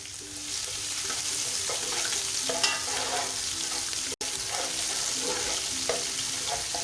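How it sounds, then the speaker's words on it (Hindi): Garlic and ginger fry in ghee with browned onions for a chicken yakhni pulao, making a continuous close sizzle broken by scraping stirs of a spoon in the pot. "तो अब मैंने लहसुन अदरक ये डाल देना है। इसको आप अच्छी तरह भून लें।"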